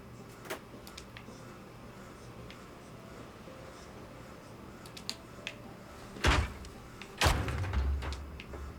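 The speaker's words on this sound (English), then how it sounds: "So that's why I close the doors." Two loud thuds, a door closing in the video game Ship Graveyard Simulator, with sharp bangs near the end after mostly quiet ambience and a few faint knocks.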